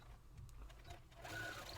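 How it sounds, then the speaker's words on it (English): A sewing machine stitches a border around journal cards, giving a steady close-up mechanical whir that runs throughout and grows slightly louder toward the end. "Now I take all the cards to the sewing machine and stitch a border."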